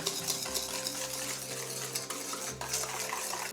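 Egg yolks and sugar for lemon curd are whisked in a bowl, a quick continuous clinking and scraping of the whisk against the sides, close and steady with no talking.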